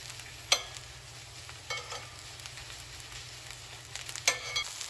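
Broccolini is tossed in a hot pan beside seared lamb chops, giving a steady close sizzle broken by three or four sharp scraping flips of stirring.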